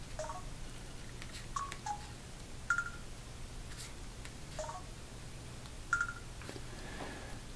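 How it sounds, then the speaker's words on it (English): Cell phone calculator keys being pressed, a series of short electronic key tones spaced irregularly over a quiet background with a low steady hum. "This is cell phone calculator."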